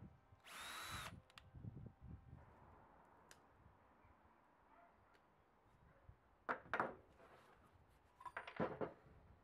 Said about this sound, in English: then I can drill some pilot holes and glue and screw it all together